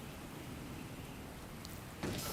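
Steady rain falls in the video game Meet Your Maker, a soft continuous hiss of drops on surfaces that holds an even level throughout, swelling a little louder near the end.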